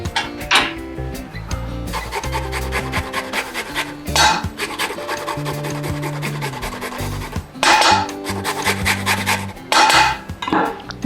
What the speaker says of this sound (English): I'm going to get my grater and I'm going to grate both of these up